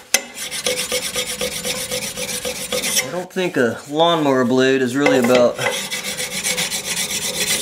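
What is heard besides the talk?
file polishing a lawnmower blade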